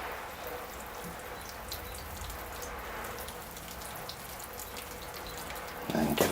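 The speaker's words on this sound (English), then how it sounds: "Give it a general mist." A spray bottle mists water over a small juniper bonsai in a steady, soft hiss. The sound is close, quiet and continuous, with no talking.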